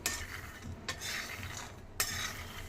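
Peanuts roasting in a pan while being stirred give a dry, scraping rattle with a couple of sharper scrapes of the utensil against the metal, close and steady, with no voices.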